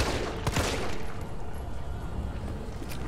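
Rapid bursts of gunfire from the Resident Evil 3 video game, a dense loud volley at first that thins into a rumbling echo, with no talking.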